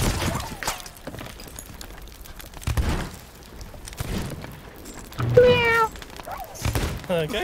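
A cat meows a couple of times amid Sea of Thieves game sounds, including thuds and a breaking crash, with voices talking intermittently.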